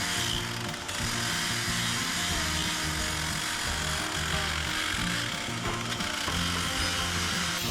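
A low-speed sander fitted with a 120-grit abrasive pad grinds steadily across metal checker plate, smoothing out earlier scratches with a continuous rough whirring hum that stays loud and even throughout, with no talking.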